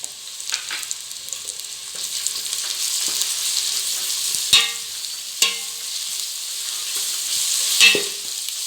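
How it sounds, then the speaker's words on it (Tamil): Ginger and garlic hit hot oil in a frying pan while jackfruit biryani is being cooked, giving a steady close hiss with a few louder crackling bursts and stirring scrapes, and no talk. "இப்போ இஞ்சி பூண்டு இதோட சேர்த்துக்கலாம்."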